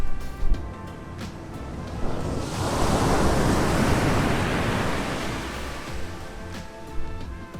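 Pacific Ocean surf at Goat Rock beach in California: a big wave roars in, swells to a steady wash over several seconds and then recedes, with wind buffeting the microphone throughout.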